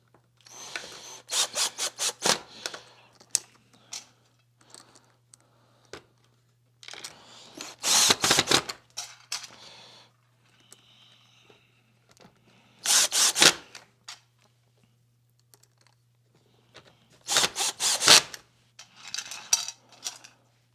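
Screws are being removed from a Hoover Powerdash FH41000 carpet cleaner, with bursts of small metallic clinks and scraping tool sounds separated by quiet gaps under a low steady hum.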